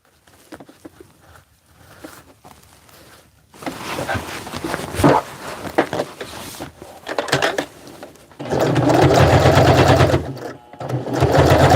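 A sewing machine stitches a Hmong baby carrier in short bursts of rapid mechanical rattling, growing louder and more sustained toward the end, with gaps and soft handling noises between runs.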